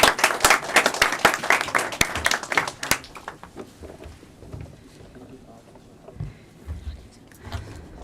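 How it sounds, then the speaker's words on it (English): A burst of clapping and applause from a crowd at a panel event for a few seconds, fading out into quieter room sounds and faint voices. "please give a round of applause to Ambassador Lakshmi."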